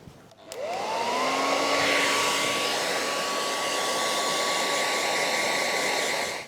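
A hair dryer drying chalk paint on a sideboard switches on and runs with a steady high whine and rushing airflow for several seconds, loud and close, then cuts off.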